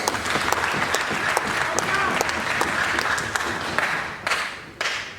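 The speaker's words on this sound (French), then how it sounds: "Nous pouvons nous applaudir nous-mêmes parce que la solution est déjà là." Dense applause from an audience at a meeting of communal councillors in the DRC, steady and close for several seconds, then thinning into a few separate bursts toward the end, with voices mixed in.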